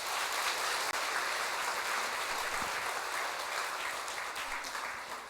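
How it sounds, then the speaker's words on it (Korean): A church congregation at a Catholic Holy Spirit seminar applauds together, a dense, loud, steady wash of clapping that holds for several seconds and fades slightly at the end. "우리 서로 위해서 박수 한번 칠까요?"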